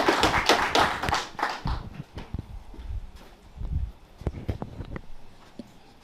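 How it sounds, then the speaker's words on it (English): Audience applause for a speaker at a financial literacy investment event, a dense burst of clapping that starts loud, thins out after about two seconds and trails off into scattered claps. "So give him a round of applause, please."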